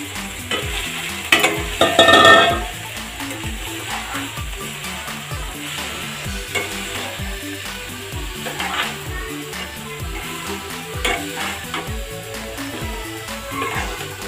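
Chopped vegetables for veg momos sizzling loudly in a hot pan, with a louder burst of frying early on as they go in, then steady crackling and repeated scraping stirs.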